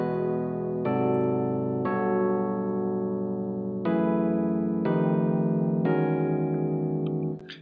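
Keyboard polychord voicings played as a sequence of sustained chords, seven changes spaced roughly a second apart, each ringing full and steady into the next, with no talking over the music.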